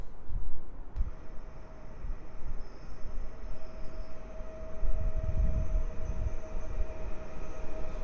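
Service train rolling through Warszawa Gdańska station, a steady rumble of wheels and carriages with a faint tonal whine, swelling louder midway as it passes close.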